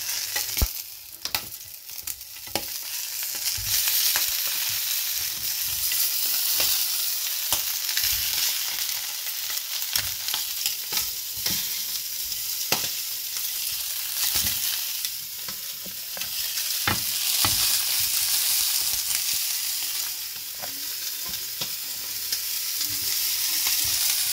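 Chicken seared in hot oil, already used for frying onions for Syrian maqluba, gives a continuous strong sizzle, punctuated by frequent sharp clicks and scrapes of stirring, close and busy for the whole stretch, with no talking.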